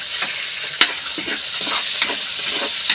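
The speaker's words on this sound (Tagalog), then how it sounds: "Igisa lang natin yan mga kamutulots." Vegetables sautéing and being stirred in a frying pan for pancit canton, a steady close sizzle broken by a few sharp utensil scrapes and taps against the pan.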